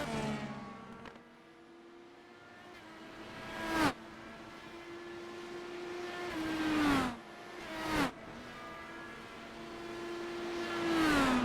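Race cars at Road America crossing the finish line one after another, engines rising in pitch as each car closes in, then whooshing past with a sharp pitch drop, several loud passes.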